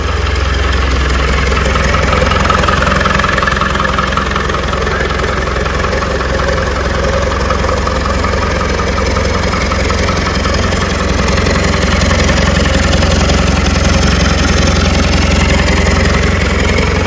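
An ex-army Land Rover Defender engine with a newly fitted turbo idles steadily, a loud, close diesel rumble with a faint knocking rhythm and no pauses.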